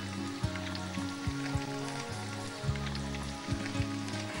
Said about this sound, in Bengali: আমরা আলুটা ভেজে তুলে নিচ্ছি